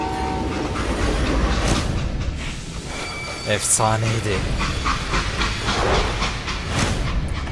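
A freight train rumbles along with a clickety-clack rhythm in the Call of Juarez Gunslinger video game, and a brief whistle-like tone sounds partway through, all under someone speaking.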